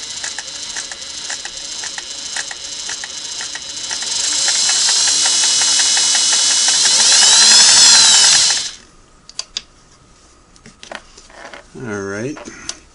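A restored Singer 401A sewing machine runs slowly on its controller, giving a steady close whirring hum with fast ticking that rises slightly before stopping abruptly, followed by faint clicks and a brief voice.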